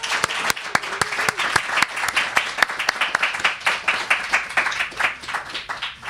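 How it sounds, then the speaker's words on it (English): An audience claps warmly for a guest at the end of an interview, with dense applause that rises quickly and then settles into a steady wash of many hands before gradually thinning out. "let's get a round of applause for Maxine Allen, this incredible project."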